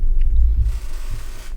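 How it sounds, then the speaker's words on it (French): A short, low, rubbery squeak from a chair creaking under weight, sounding like a fart, fairly loud and close. "J'ai pas pété, c'est la chaise."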